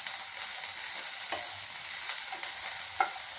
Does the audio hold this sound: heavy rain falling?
no